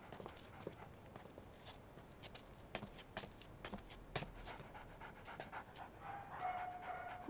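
Caged dogs pant and shuffle about nearby, with quiet scattered footsteps and scrabbling heard as faint irregular taps.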